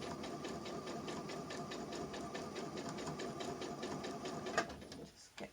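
Sewing machine running steadily while stitching fabric for a bolster, a fast even mechanical chatter held for about five seconds before stopping with a couple of small knocks.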